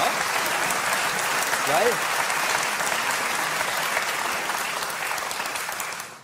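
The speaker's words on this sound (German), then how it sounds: "Applaus bitte." A German audience gives sustained applause for Friedrich Schorlemmer, a thick wash of clapping that holds steady for six seconds and fades at the end, with a brief spoken word early on.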